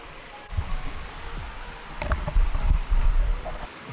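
An outdoor waterfall gives a steady, distant rush of water throughout, with low thumps and rustling from nearby handling and leaves.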